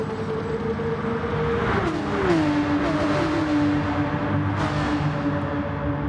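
Porsche Supercup race cars in a racing video game sprint at Circuit de Sainte-Croix, a close engine whine that drops in pitch as the car shifts and then climbs again, with other cars humming nearby.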